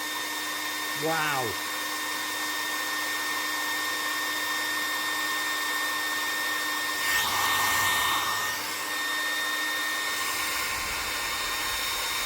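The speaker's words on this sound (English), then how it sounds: "Look how much these air dryers take." A hair dryer runs on full heat from a power bank aboard a narrowboat, a steady loud whirring hum throughout, with a brief exclaimed word and a short rustle partway through.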